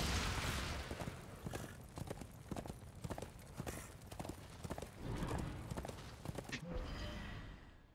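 Rhythmic clip-clop of horse hooves in a video game, Darksiders II, plods steadily over a busy, noisy backdrop, with a brief whinny-like sound near the end.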